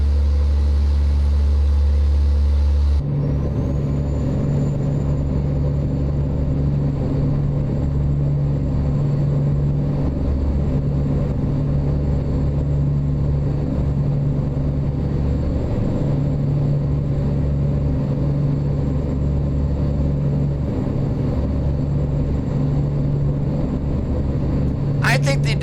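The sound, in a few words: International LoneStar truck engine, American Truck Simulator video game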